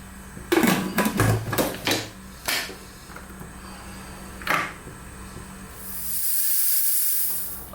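A pressure cooker cooking lamb potato curry releases a strong hiss of steam near the end. Before that come scattered clanks and knocks, and the steady hiss then fades away.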